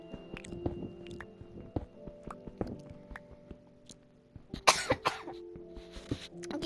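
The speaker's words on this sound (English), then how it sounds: "Keep on coughing." Several close coughs burst out together in a quiet indoor room during a family Minecraft game night, with scattered clicks and small handling noises before and after.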